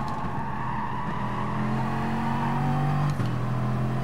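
Bugatti Gr.4 race car in Gran Turismo Sport at the Red Bull Ring, engine holding a steady loud drone, then a sharp gearshift and the pitch dropping and climbing again, close and alone.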